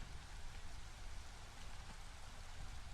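Drizzle falling steadily in the game Against the Storm, a soft even hiss of light rain, faint and continuous with no voices.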